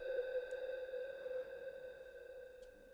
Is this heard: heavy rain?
no